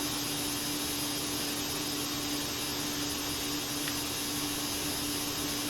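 Steady jet engine hum from a JetBlue ERJ 190 airliner in Microsoft Flight Simulator, a constant loud whine with a sustained tonal drone and no talking.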